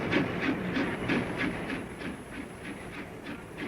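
Goods train rolling along a Somerset branch line near Pill, steady rhythmic clickety-clack of wagon wheels over rail joints under a constant hiss, moderately close and continuous.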